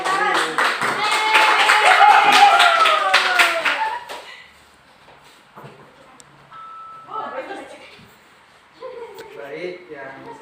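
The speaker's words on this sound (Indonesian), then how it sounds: "tepuk tangan sekali lagi untuk kelompok 1" A classroom of students claps in applause for a group, a loud burst of rhythmic clapping that fades out after about four seconds, followed by quieter scattered sounds and a teacher talking.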